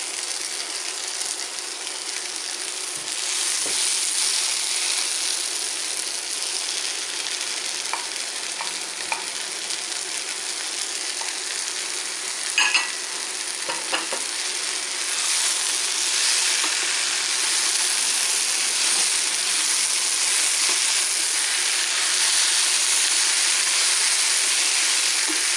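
Peppers sizzle steadily in a hot pan with tuna-stuffed msemen cooking nearby, a continuous bright frying hiss with occasional stirring scrapes, close and even throughout.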